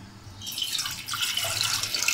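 Water poured from a tap into a pot of mince, a steady bright splashing rush that starts after a short pause and continues loudly to the end with no speech.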